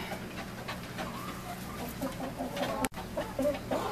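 About nineteen meat-bird roosters crow and cluck around a farmyard before being loaded for processing, overlapping calls at close to middle distance, with a brief sharp knock near the end.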